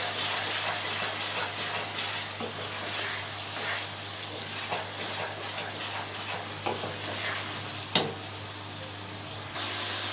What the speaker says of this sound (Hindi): लहसुन अदरक की भी सही से भुनाई करेंगे